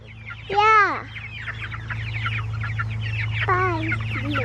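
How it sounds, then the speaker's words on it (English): Chickens clucking close by in a backyard coop, including a newly hatched bird in a broody box, two loud squawking calls over a steady low hum with softer clucks between. "So we have one more chicken that hatched this week, and I put her in that little broody box."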